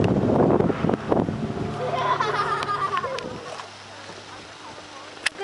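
Droning engine of a small aircraft coming in to land, a steady buzzing hum that fades and thins out toward the end as the engine cuts, with outdoor wind in the background.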